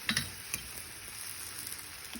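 Rava dosa batter cooking on a frying pan, a soft continuous sizzle with a few sharp clicks near the start and nobody speaking.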